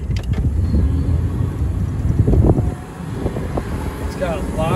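A 1937 Cadillac Series 75 V8 convertible sedan drives along with a steady low engine rumble and heavy wind and road noise, easing off slightly toward the end.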